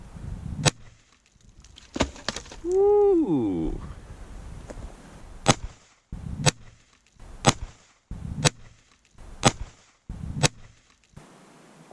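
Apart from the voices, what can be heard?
gunshot fired through a pillow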